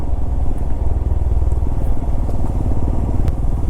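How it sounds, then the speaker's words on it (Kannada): A motorcycle rides along a forest road, its engine a steady, close, continuous drone with a dense rumble, and no talking. "ಖುಷಿ ಆಗತ್ತೆ ಇಲ್ಲೆಲ್ಲ ಗಾಡಿ ಓಡಿಸೋದಕ್ಕೆ"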